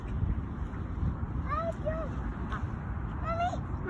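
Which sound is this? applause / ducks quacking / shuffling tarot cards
ducks quacking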